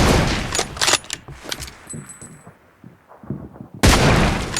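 Gunfire in the mobile video game PUBG Mobile: loud, dense bursts of rapid shots open the clip, quieter scattered shots and game noise follow, then another loud sustained volley crashes in near the end.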